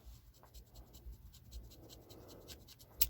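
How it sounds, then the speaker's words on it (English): Ordinary paper scissors chop through a stiff synthetic wig in a series of soft, dry snipping and rasping strokes, close and quiet, ending in a sharper final crunch. "I think here's where I just cut a whole big old chunk."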